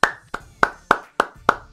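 Six crisp, evenly paced hand claps, close and loud, with no other sound between them.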